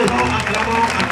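A church congregation claps together in a dense, continuous patter of applause mixed with voices.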